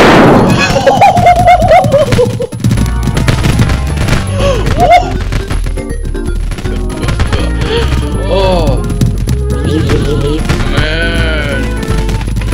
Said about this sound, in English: Let's try the explosion devices.